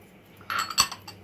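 A metal spoon mixing jhalmuri, spiced puffed rice with roasted cumin, coriander, chili powder and pickle oil. It gives a brief flurry of close, bright clinks and scrapes against the bowl, with no talking.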